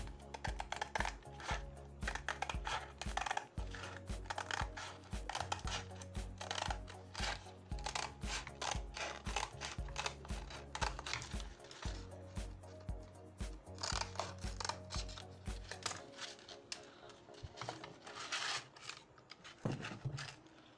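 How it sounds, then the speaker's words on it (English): Scissors snip through sandpaper being cut to size for a shoemaker's bench grinder roller, producing a steady run of crisp, close cutting strokes over a low rhythmic machine hum that drops away near the end. "once I have done that, the next thing I'm going to do is to cut it out"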